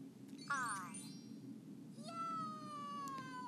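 A cartoon cat meows twice in the EduKity ABCs preschool learning game, first a short bright mew and then a longer drawn-out one, clear and close over a soft background hum.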